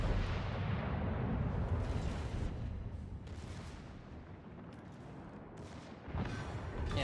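Secondary guns of a French Brest super cruiser firing in World of Warships, a steady rumbling barrage of booms that eases slightly midway and then swells again near the end.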